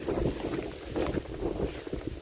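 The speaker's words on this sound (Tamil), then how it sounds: "காற்று பார்த்தீங்கன்னா வேற லெவலில் அடிச்சிட்ருக்கு." Strong wind gusts across an open farm field, roaring continuously into the microphone with rising and falling buffeting and no talking.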